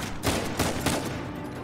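Rapid bursts of gunfire from a firefight in Uncharted 4, three or four loud close shots cracking in quick succession over a continuous roar of battle noise.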